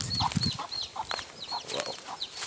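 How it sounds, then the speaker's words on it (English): Several hens cluck and squawk in short, repeated bursts at a historic slave-era mansion in Jamaica, close but fairly soft against a quiet outdoor background. "Neck part is chickens. My chickens."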